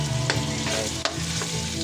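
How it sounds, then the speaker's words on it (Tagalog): Garlic and onion sauté in hot oil in a pan, a close steady sizzle broken by a few scraping stirs of the utensil. "Ayan guys, bigyan na natin gisahin talaga siya."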